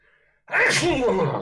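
A single loud, close sneeze bursts out after a brief quiet moment, a sharp explosive release trailing off quickly, heard alone without talk.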